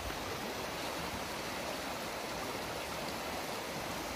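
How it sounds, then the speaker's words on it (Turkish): The Keila river flows near its waterfalls, a constant, even rushing roar of water with no change in level and no other sounds on top. "Arkadaşlar Keyla nehrin yanındayız."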